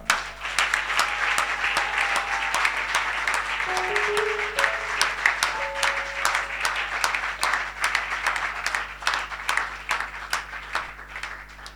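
A church congregation applauds during a Sunday service, sustained dense clapping from many hands that keeps going at a steady level for several seconds in a reverberant hall.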